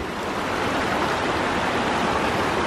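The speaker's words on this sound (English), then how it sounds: "there's this pretty river that we wanted to enjoy" Steady rushing water from a pretty roadside river, a continuous broadband wash with no breaks, fairly close and even in level, with no voices.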